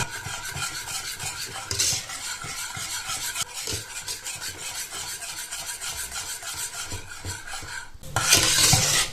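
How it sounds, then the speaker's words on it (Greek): A spoon stirs butter into thick béchamel sauce in a pot, a steady close scraping and rubbing rhythm running throughout, with a brighter, louder burst of scraping near the end. "Και θα ανακατέψουμε για να διαλυθεί και το βούτυρο."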